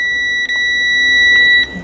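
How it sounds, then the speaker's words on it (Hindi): A multimeter set to buzzer continuity mode during mobile phone circuit checking emits a steady, clear electronic beep that holds almost unbroken for nearly two seconds, with a couple of brief dips. "तो मीटर को लगा देते हैं बीप मोड पर। आप बीपी सुन सकते हैं"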